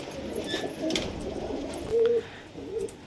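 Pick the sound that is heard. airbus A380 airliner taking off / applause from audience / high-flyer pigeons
high-flyer pigeons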